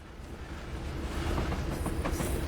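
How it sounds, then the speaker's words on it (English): A freight train rolls past in a railway simulator game set in Feather River Canyon, a steady mid-level rumble with faint rhythmic wheel clicks and occasional metallic squeals building toward the end. "Now, the back of that train's almost here, so in a moment we'll get going."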